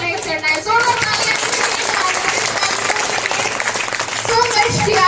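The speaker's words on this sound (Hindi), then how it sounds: "जोरदार तालियां" Audience applause at a public event in Himachal Pradesh, sustained clapping throughout with a few children's voices mixed in.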